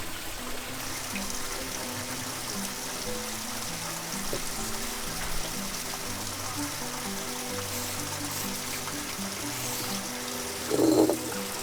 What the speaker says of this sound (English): I pour the hot water slowly over a twisted paper filter